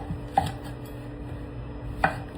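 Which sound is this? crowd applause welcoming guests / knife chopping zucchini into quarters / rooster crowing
knife chopping zucchini into quarters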